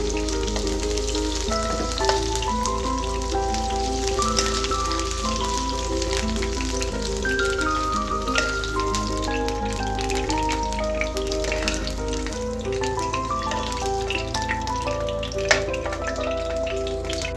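Ivy gourd (dondakaya) pieces frying in hot oil, a steady dense sizzle with crackling pops that runs unbroken throughout, close and fairly loud, no voices.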